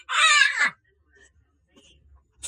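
A parrot gives one loud, harsh squawk lasting about half a second, close by. Only faint, scattered sounds follow, then near-silence.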